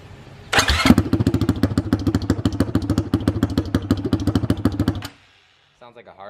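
A 2019 Honda CRF450L dirt bike with only the exhaust header fitted cranks and fires up, running with a loud, rapid, raw popping exhaust for several seconds before cutting off abruptly.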